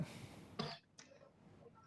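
A single sharp cough rings out close by, followed by a softer throat-clearing burst, then quiet breathing.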